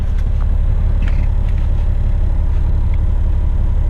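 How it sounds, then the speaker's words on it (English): A Western Star dump truck engine idles to cool down after hard turbo running at a former mine site, a steady, loud low rumble that holds without change for the whole stretch, with no talk. "I'm just gonna cool off the engine for a few minutes."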